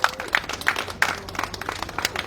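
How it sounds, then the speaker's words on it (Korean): An audience at a candlelight rally in Gimcheon applauds to welcome a speaker, giving a short burst of steady, close clapping from a modest crowd, with no talk over it. "큰 박수로 모시겠습니다"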